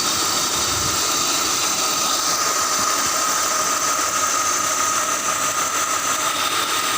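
A BMW car engine runs at a steady idle with an odd whine and roughness, a continuous close mechanical hum with a high-pitched whistle layered over it and no talking.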